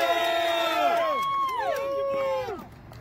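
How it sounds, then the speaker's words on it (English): An audience at a talk-show event cheers loudly, with overlapping whoops and shouts from a crowd that hold steady and then drop off abruptly near the end. "Let's give a big round of applause for Bob"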